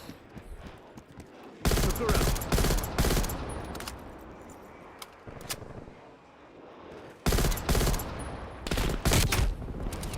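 Bursts of rapid gunfire from the video game Call of Duty: Warzone, loud clustered volleys separated by quieter stretches of ambient game noise.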